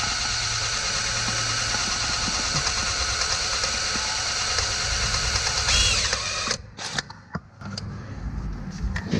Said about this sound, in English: Oh, you're making your little pilot hole.